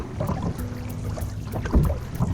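Canoe paddling on Lake Opeongo, with low watery swishes and gurgles of paddle strokes close to the boat, blended with light wind rumble and no talk.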